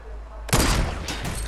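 A loud burst of gunfire erupts in a Fortnite match after a quiet moment, a rapid cluster of close shots followed by a second volley.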